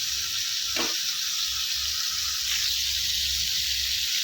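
Marinated tandoori chicken sizzling in an oil-coated pan on the stove, a soft continuous hiss and crackle with a brief louder spatter, no talking.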